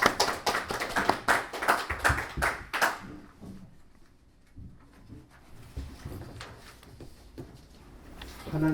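Church congregation applauding in a sanctuary during a Sunday worship service: a dense burst of clapping that fades after a few seconds, leaving scattered claps and soft room noise with faint voices beneath.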